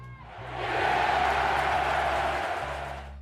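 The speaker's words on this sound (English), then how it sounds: "The crowd goes wild" A crowd at a televised sports game swells into a broad roar of cheering that rises after a moment and holds steady, sounding muffled and distant over a low hum.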